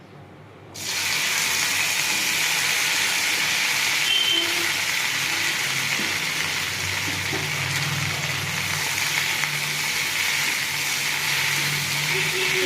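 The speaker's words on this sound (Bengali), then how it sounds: "কড়াতে তেল দিয়ে দিয়েছি, তেল গরম হয়ে গেছে। এবার আমি ঢ্যাঁড়সগুলো দিয়ে দেবো।" Okra goes into hot oil in a wok and bursts into a loud sizzle less than a second in, then settles into a steady, close frying hiss that lasts throughout.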